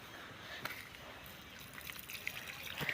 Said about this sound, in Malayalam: ഇതുപോലെ 1/2 കപ്പ് മഗ് ഓരോ ചൂടിനും ഒഴിക്കുക എന്നതാണ്